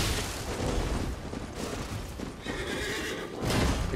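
A cavalry knight's horse in the video game Elden Ring neighs loudly and repeatedly, whinnies mixed with clattering hooves and combat noise in a busy, continuous game soundscape.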